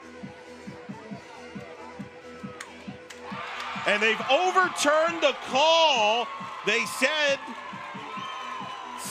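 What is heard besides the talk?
softball stadium crowd reacting to a play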